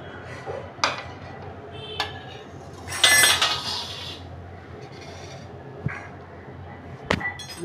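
Metal spoon clinking against a bowl while scooping thick homemade curd, a few scattered taps and a louder scraping clatter in the middle, close and clear with no talk.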